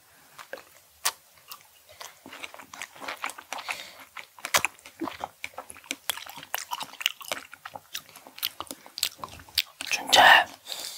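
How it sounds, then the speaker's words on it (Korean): Fresh strawberries being bitten and chewed close to the mic, wet squishy crunches and smacking mouth sounds in an irregular stream, with soft voices talking now and then and one louder burst near the end. "딸기 먹는다"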